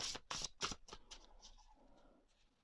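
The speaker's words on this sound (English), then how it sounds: "let me just give this a bit of a shuffle." Oracle card deck being shuffled close up: a few quick riffling bursts of cards, then softer sliding and settling that fades out.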